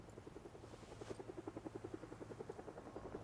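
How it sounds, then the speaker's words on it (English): A helicopter flies over in the Project Zomboid video game, its rotor a steady rhythmic chop of evenly spaced beats, moderately loud and holding constant across the clip with no speech. "Oh, here's a helicopter."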